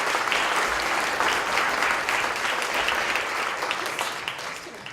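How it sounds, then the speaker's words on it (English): Enthusiastic applause for Shar at a Little Miss Foley and Junior Ambassador coronation, a dense, steady clapping from the crowd that lasts several seconds and fades slightly at the end. "Give her another round of applause"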